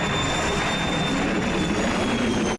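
Steady, loud broadband roar of an aircraft flying high overhead in the 1953 film The War of the Worlds, continuous and unbroken for a couple of seconds with no voices.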